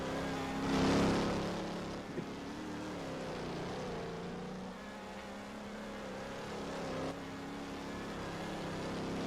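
Porsche race cars run at the 2023 IMRP Patriot GP, a continuous engine roar that swells briefly near the start, then holds as a steady drone from cars at some distance.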